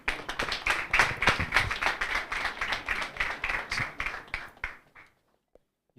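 An audience at a university moot court competition claps for a team, a dense patter of hand claps that thins out and stops about five seconds in, leaving near silence.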